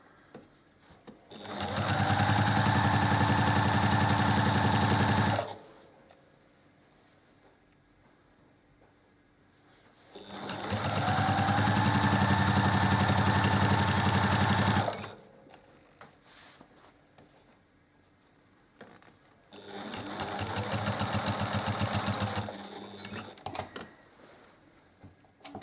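A sewing machine stitches binding onto a quilt in three long runs of several seconds each, separated by quiet pauses as the work is turned, the motor's whir steady and close.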